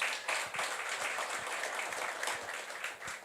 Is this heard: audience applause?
yes